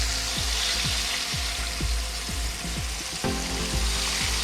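Fish from a spearfishing catch fries in a pan while being flipped: a loud, continuous close sizzle punctuated by soft, regularly spaced low knocks, with no voices.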